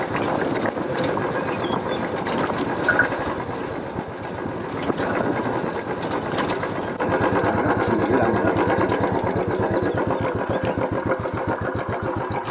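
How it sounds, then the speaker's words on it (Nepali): A motorbike rides off-road along a rough track, its engine putting out a steady, rapid low throb with rattling and wind noise, continuous and fairly close for the whole stretch. "अफ रोड चलाउन मन लागिरहेको थियो, यो हेप्पी बाइक छ कि अफ रोड एकदम है राम्रोसँग कटाउँछ क्या"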